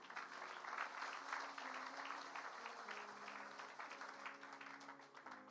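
A church congregation applauds the Lord during a sermon, with dense, sustained clapping that stays distant and quiet throughout.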